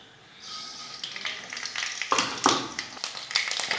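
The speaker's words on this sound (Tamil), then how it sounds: "கடுகு சேர்த்துக்கிறேன்." Mustard seeds crackle and pop in hot oil in a kadai, a rising sizzle broken by sharp, irregular snaps that grow busier over a few seconds.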